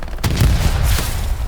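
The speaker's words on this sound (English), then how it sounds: "Oh, grenade." A single loud, close grenade blast booms out in the Hell Let Loose war game, a sharp crack followed by a rumbling tail.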